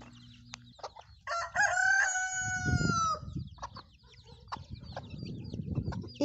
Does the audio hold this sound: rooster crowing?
yes